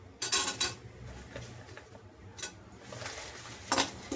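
A handful of cashews tips into a pan to roast alongside almonds, giving a few close, bright clatters and clinks against the metal and light scraping in between, with no voices.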